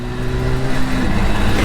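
A 1977 Suzuki GT250 two-stroke motorcycle engine runs close by, its steady droning note holding a few harmonic tones that shift slightly. The loud engine sound continues unbroken with no voices.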